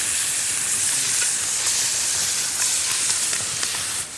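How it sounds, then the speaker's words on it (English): Trout searing on a hot shovel over an open outdoor fire, giving a steady, loud, bright sizzle and hiss with no pauses throughout. "Next, trout, cooked on a shovel. Look at that, instant sear."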